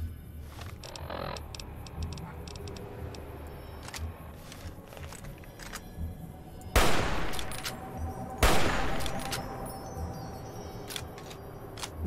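Gunfire in the video game Fallout: New Vegas: scattered faint shots and clicks over a low ambient bed, then two loud, close bursts of shooting a couple of seconds apart.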